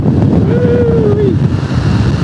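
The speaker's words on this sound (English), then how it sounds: "Windy." Strong wind buffets the microphone in a continuous low roar, with a brief whistling tone rising above it.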